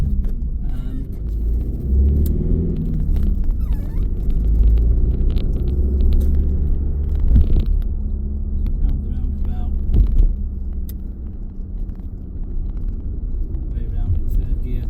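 A 2019 Ford Transit Custom 2.0 EcoBlue short-wheelbase van rounds a roundabout, a steady low engine and road rumble heard from inside the cab with a few bumps, while a person talks over it.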